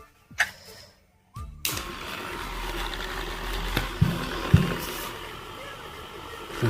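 An electric body massager with a plain cap fitted hums in a steady low vibration after a brief pause, with small knocks and handling bumps over the drone.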